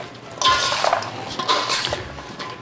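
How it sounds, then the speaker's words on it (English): Chopped onions and celery are stirred together in a bowl, making close, soft clinks and scraping rustles in two short bursts with no talking. "Gonna put the onions in here and the celery. Mix them."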